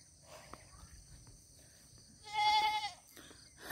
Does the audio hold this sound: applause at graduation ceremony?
no